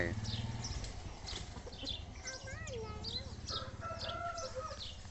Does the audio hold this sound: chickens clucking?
yes